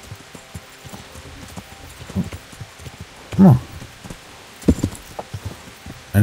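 Hooves of a ridden horse in Kingdom Come: Deliverance thud in an uneven rhythm, moderately close, with a short vocal murmur in the middle.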